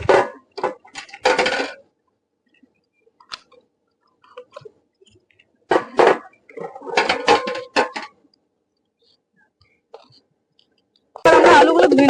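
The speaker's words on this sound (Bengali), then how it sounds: "এবার আমরা ডিমগুলো ধুয়ে নেবো সিদ্ধ করার জন্য" Eggs being washed in a pot of water before boiling, in a village kitchen cooking egg curry: close clattering and sloshing in several short bursts separated by quiet gaps, with faint low voices.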